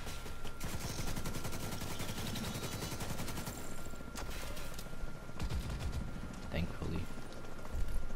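Rapid AK rifle gunfire in a war video game, sustained automatic bursts running steadily almost throughout, with a player talking over the shooting.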